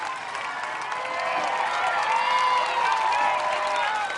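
A crowd cheers and applauds steadily at an obstacle-course competition, urging on an exhausted competitor; the dense clapping and shouting swell slightly midway and stay loud throughout, with no distinct voices standing out.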